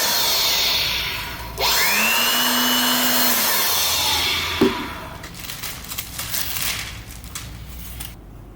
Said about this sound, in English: Now we will do that to use the vacuum cleaner to make it drier faster.